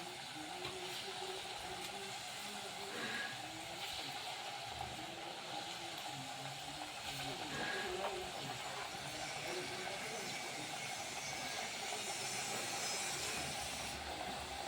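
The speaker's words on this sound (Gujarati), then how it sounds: "તો આપણું તેલ ગરમ થઈ ગયું છે, તો હવે આપણે સકરી તારવાનું ચાલુ કરી દઈએ." Rice flour chakri fry in hot oil with a steady, dense sizzle that holds evenly throughout and rises slightly toward the end.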